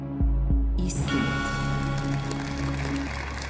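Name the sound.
applause from the TV studio audience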